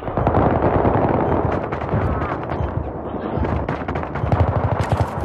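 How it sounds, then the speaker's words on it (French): Sustained automatic rifle fire in Battlefield 3 on the Grand Bazaar map, a loud, dense rattle of rapid bursts with overlapping distant shots and explosions filling the whole stretch. "le gars il tire avec son arme avec 200 munis"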